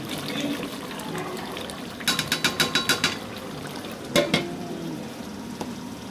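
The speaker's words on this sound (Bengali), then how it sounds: "আমাদের আজকে বাবুসি এখন মাংস ভালো করে কষানো হচ্ছে।" Beef cooks in a pot with spices for Bangladeshi curry, a soft sizzle underneath a quick series of sharp spoon taps against the pot, then a few more scattered knocks.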